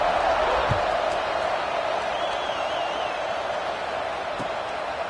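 A football stadium crowd before kickoff makes a steady, dense roar that holds at an even level throughout, with no single voice standing out.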